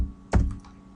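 Quick typing on a computer keyboard while a first name is entered into a registration form: one short, close burst of key clicks followed by a few faint taps fading into quiet.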